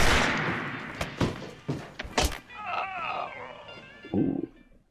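Several sharp gunshots in the 1971 film Billy Jack, a quick run of loud cracks in the first half, then quieter background sound with faint voices.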